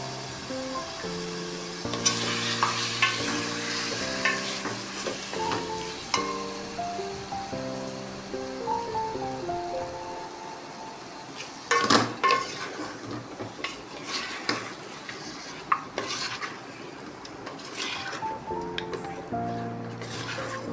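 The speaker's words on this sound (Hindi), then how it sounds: "चिकन डाल के भी हमने इसकी भुनाई करनी है जब तक चिकन का कलर चेंज ना हो जाए।" Chicken with garlic and ginger is stir-fried in a pot, with a soft sizzle and irregular scraping clinks of a spoon against the metal, while background music plays during the first half.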